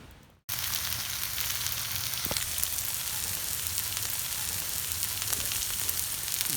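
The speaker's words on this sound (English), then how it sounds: "The fajitas are cooking now." Fajita meat with onions and green and red peppers sizzles on a grill over embers at a glamping campsite, a steady close crackling hiss that starts abruptly and runs on evenly with faint pops.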